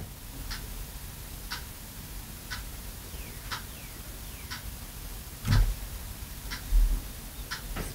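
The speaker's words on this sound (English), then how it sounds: "Clock ticking on you." A clock ticks steadily about once a second, faint and distant under room noise, with a couple of dull knocks partway through.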